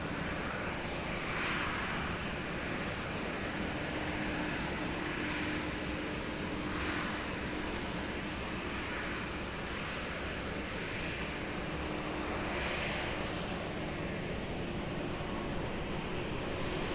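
Airliner on approach to runway 20 at Lisbon Airport, a steady broad engine roar heard from a distance that holds at an even level for the whole stretch, with a faint low hum running beneath.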